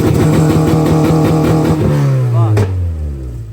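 Engine of a lowered project car revving up in rapid pulsing bursts, loud and close, then dropping away into a falling idle tone.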